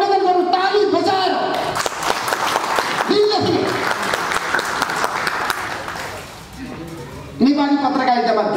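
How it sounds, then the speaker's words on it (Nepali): An audience at a Nepali journalism gathering breaks into sustained applause, dense clapping filling the room, with someone speaking over it at the start and again as the clapping fades. "ताली बजाएर"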